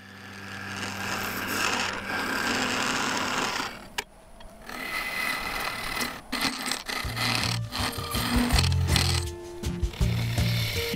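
Wood lathe turning an epoxy-resin-cored bowl with carbide and parting tools, scraping and rasping cuts that start steady, break off abruptly, then return as choppy bursts over a humming motor.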